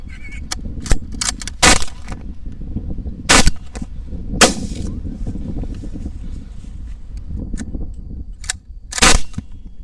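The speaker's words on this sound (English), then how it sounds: "That's 3 hogs shot" Sharp rifle shots from a 6.5 Grendel fired during a nighttime hog hunt, several loud cracks spaced irregularly across the clip over a low outdoor background.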